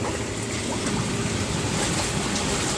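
Water rushing from the jets of a Jacuzzi J 480 hot tub, switched by a diverter, making a steady close churning flow with bubbling texture and no talk.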